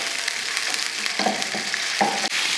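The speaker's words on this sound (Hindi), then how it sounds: "चिकन को हमने ऑयल में भून लेना है।" Small cubes of chicken frying in oil, a steady close sizzle with occasional stirring scrapes, no talking.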